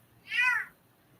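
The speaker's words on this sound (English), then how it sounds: "We got dogs and cats making noise" A single short, high-pitched meow from a cat, fairly faint, rising and falling over half a second against quiet background.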